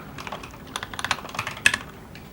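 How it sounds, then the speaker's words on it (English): Fingers tap rapidly on a computer keyboard, with close, crisp keystrokes in an uneven flurry and a few sharper clacks mixed in. "Keyboard, here's the keyboard."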